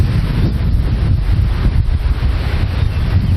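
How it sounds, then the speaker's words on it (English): Strong gusty wind roars continuously over an outdoor microphone, a heavy low rumble that swells and buffets in uneven gusts, with no voices. "It is windy. Probably 30-mile-an-hour gusts"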